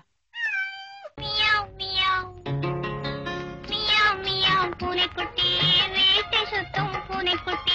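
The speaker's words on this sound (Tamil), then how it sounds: "எனக்கு இந்த பூனைய தெரியல, ரொம்ப பிடிச்சிருக்கு" A cat meows repeatedly and loudly up close, a long rising-falling call followed by a run of varied, insistent meows with short gaps between them.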